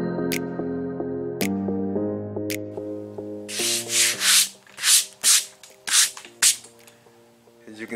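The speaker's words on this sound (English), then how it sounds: "Then I'm gonna take my sander and sand it down flush." Repeated bursts of a DA sander with 80-grit paper grinding fiberglass on a car dashboard, starting and stopping in short passes after a steady musical tone, loud and close.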